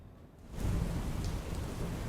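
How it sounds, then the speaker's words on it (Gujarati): Steady, dense monsoon downpour in Valsad, Gujarat, starting quieter and swelling into a loud, continuous roar with a deep rumbling low end. "વલસાડમાં પણ મેઘો મુસળધાર વરસી રહ્યા છે"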